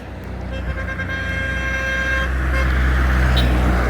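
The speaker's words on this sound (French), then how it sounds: "les voitures passent tellement vite, avec une grande vitesse" Cars and trucks rush past on a busy Bujumbura boulevard, a rising roar of traffic with a sustained horn tone and short toots near the end, loud and close by the roadside.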